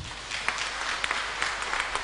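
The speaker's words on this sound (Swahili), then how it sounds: "Basi tuweze kujipongeza kwa makofi mazuri" A church congregation at a Swahili Sunday service breaks into steady, dense applause, a continuous wash of many hands clapping at moderate distance with scattered sharper claps, no voices over it.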